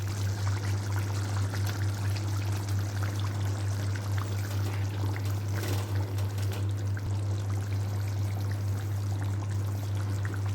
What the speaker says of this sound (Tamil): அரைச்சி வச்சுருக்க தேங்காவை ஊற்றிக்கலாம்.